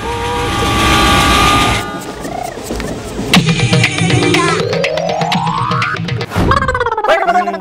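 Children playing a train game mimic a train with their voices, giving wavering whistle-like hoots, a long rising siren-style glide and rhythmic chugging, loud and close with overlapping vocal noises.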